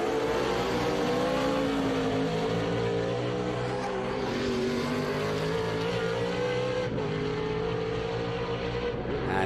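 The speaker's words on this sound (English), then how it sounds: "Final lap of the race here for the stock cars" SVRA vintage stock cars race at Sebring on the final lap, a loud sustained roar of V8 engines blending and droning together as the pack runs, with pitch shifts as cars accelerate and pass.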